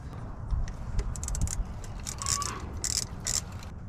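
A hand ratchet clicks in short, quiet bursts while tightening bolts on a zero turn mower, over low background rumble.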